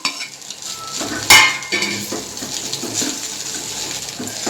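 Fried paneer tipped into a pan of restaurant-style noodles and stirred, with a sharp clatter of utensil on pan, then a steady hiss of frying and scraping stirs close by.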